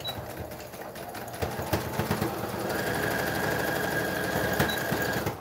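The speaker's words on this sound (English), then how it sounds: "So I'll just do another little row of stitches." A sewing machine stitching a row along a fabric mask seam, running in a close, rapid mechanical chatter that steadies into a continuous whir for the last few seconds.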